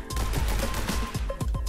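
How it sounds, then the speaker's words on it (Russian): Rapid gunfire from The Hong Kong Massacre video game, a dense, loud burst of overlapping shots with sharp cracks and booming low thuds in quick succession. "На опережение, смотрите, стреляю сейчас."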